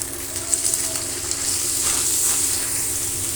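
Dried red chillies and five-spice seeds sizzle in hot oil in a pan while cooking prawns and bottle gourd, a steady close crackling hiss with small popping bursts and no talking.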